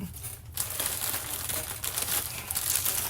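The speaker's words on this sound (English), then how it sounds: "we gonna get into this unwrapping" A gift package being unwrapped up close: paper and plastic crinkle and rustle continuously after a brief quieter start, with sharper tearing bursts scattered through.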